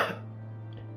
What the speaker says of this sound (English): She coughed a little.